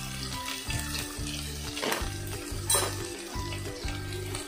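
Masala for a pointed gourd, potato and paneer curry sizzles in oil as a spoon stirs it in a regular rhythm of scraping strokes over a continuous close, hissing fry.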